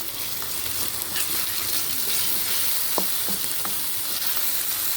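Onion and green chillies sauté in hot oil in a pan, giving off a loud, steady sizzle throughout. A few sharp clicks of a spoon against the pan come near the end.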